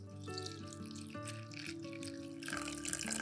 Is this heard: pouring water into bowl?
yes